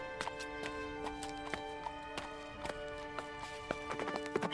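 Horse hooves clip-clop in a steady repeating rhythm for a cartoon Hindi folk tale, a rider heading off toward a village, with sharp evenly spaced hoof strikes over a constant tonal music bed.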